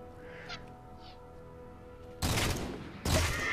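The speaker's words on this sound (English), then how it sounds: "I'm going to use the battle rifle." Battle rifle gunfire in the Halo 4 campaign level Requiem, two loud broadband bursts in the second half, each a quick volley ringing out, following a quieter stretch of low game ambience and faint chirps.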